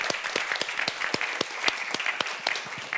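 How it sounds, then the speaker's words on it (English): Brief applause from a conference audience after a session on open science, a few seconds of moderate, fairly close clapping from a modest crowd with distinct individual hand claps. "A warm applause, I think, for these guys."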